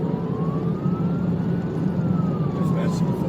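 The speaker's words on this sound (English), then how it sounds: "lights and sirens" A police car siren wailing during a high-speed chase, one slow rise and fall over heavy road and engine rumble, with voices on the radio.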